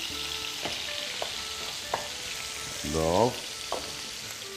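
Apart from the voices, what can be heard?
food frying in a pot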